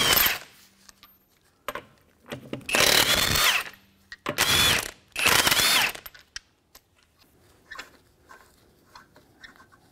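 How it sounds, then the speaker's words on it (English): An impact wrench with a 22mm socket removes a rear wheel from a 2008 Acura MDX, firing in three loud hammering bursts close by, separated by short pauses and clicks. "to remove the wheel, we're going to use a 22mm socket on an impact"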